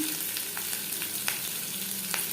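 Whole cumin, garlic and chopped green chillies frying in oil over a low flame, giving a steady close sizzle with scattered small crackles and pops throughout.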